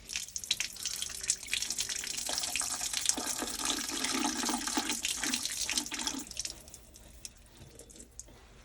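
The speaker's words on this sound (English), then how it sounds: "That drains the water out of this accumulator here" Water rushes and gurgles as it drains out of a camp plumbing accumulator during winterizing, a continuous splashing flow with drips that tapers off near the end.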